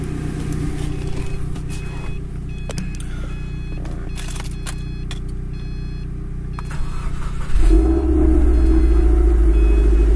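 Subaru engine turning over on a cold start and then settling into a steady, loud rumbling idle, with mechanical clicks and rattles beforehand.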